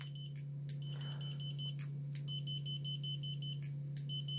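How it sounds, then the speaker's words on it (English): An AMES laser distance measure in continuous measurement mode gives repeated short, high-pitched beeps at a quick regular rhythm over a constant low electrical hum, with a faint voice briefly underneath. "it constantly is beeping to let you know it's actually doing something"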